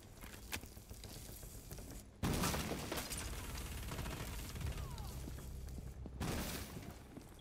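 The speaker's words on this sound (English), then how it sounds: "Loading new mag!" A magazine being swapped in during a tactical shooter match: mechanical ratcheting clicks and metallic clacks over a busy, gritty game background, close and fairly loud, with a brief break midway and no speech.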